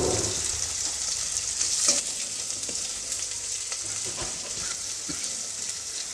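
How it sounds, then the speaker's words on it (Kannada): Chopped medium-sized onion frying in a pan for a vegetable palya, giving a steady close sizzle with a few soft clicks of stirring throughout. "ಈರುಳ್ಳಿ ಹಾಕ್ಕೊಳ್ತಾ ಇದ್ದೀನಿ. ಇವಾಗ ಇದನ್ನು ಒಂದು ಸ್ವಲ್ಪ ಫ್ರೈ ಮಾಡ್ಕೊಳ್ತೀನಿ."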